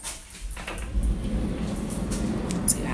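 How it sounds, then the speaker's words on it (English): A sliding door in a hotel room at Disney's Gran Destino Tower, Coronado Springs Resort, rumbles and scrapes along its track in a low, steady slide with a faint thud near the end. "And then this is a sliding door as well."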